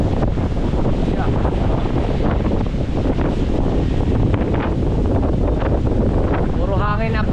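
Strong, gusting winds of Super Typhoon Uwan roar and buffet the microphone without pause, a dense rumbling rush that swells throughout.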